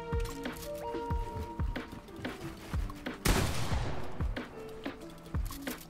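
Dense gunfire in an online shooter game, rapid overlapping shots and bursts crackling throughout, with a sharp louder blast near the middle amid steady game noise.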